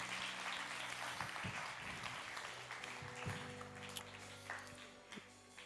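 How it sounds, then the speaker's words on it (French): A congregation at a church service breaks into scattered applause, a sustained but quiet wash of clapping heard at a distance over a low hum and tonal background. "Je crois qu'on peut applaudir les personnes qui ont fait cette prière pour la première fois."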